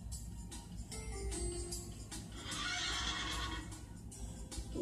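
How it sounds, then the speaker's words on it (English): Recorded horse neighing, a drawn-out whinny rising in the middle of the clip amid hoof clip-clops and soft rustling, moderately close and unaccompanied by talk. "I know. That's a horse."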